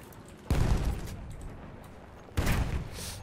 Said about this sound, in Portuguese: Ele atirou em mim